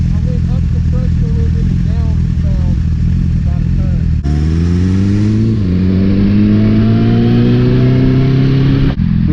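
A previously crashed Yamaha Zuma scooter rides along a bumpy freeway, its engine droning loud and close with rising pitch as it accelerates, over steady wind and road rumble.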